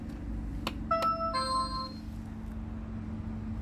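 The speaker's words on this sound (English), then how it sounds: "Quite a loud bell," A bright electronic two-tone stop bell on a Voltra Q3 electric bus in Newcastle rings briefly over a steady low engine rumble, clear and fairly loud, then fades.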